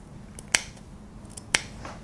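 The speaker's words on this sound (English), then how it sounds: "you're going to take your scissors and then you're going to snip this edge like this." Scissors snip the edge of fabric for a shawl collar, two sharp, crisp clicks about a second apart, close and isolated against a quiet room.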